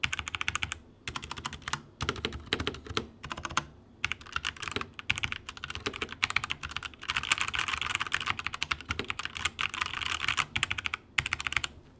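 Continuous typing on a mechanical keyboard fitted with Outemu brown switches, a steady close-up clatter of keystrokes with brief pauses and no talking.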